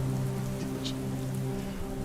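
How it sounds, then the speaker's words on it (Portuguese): Heavy rain pours down steadily in a dense, continuous hiss of drops on surfaces, with a low hum underneath. It is even and unbroken throughout, with no speech. "Uma chuva forte começa a cair do nada."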